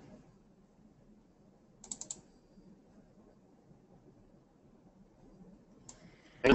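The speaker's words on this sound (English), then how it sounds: "Okay, I can hear you typing," A computer keyboard is typed on during an online call: a couple of short bursts of quick clicks, with another burst at the end, over faint low room hum and otherwise quiet.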